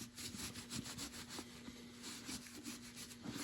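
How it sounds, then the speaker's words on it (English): Paper shop towel rubbing dubbin into leather work boots, around the eyelets and tongue: steady scratchy scrubbing strokes in a quick, uneven rhythm, close and fairly quiet, with no voices. "If you're applying the dubbin with a disposable paper shop towel, as I am"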